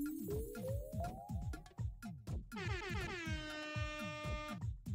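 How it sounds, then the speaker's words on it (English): Loud, blaring air horn from the game Omori, sounding in repeated bursts of harsh stacked tones with a rising pitch sweep, heard alone without speech. "Air horn."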